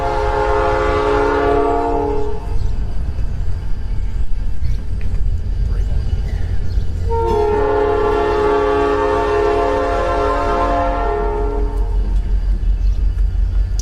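A train rumbles past steadily while its horn blasts twice, a long chord near the start and another in the second half.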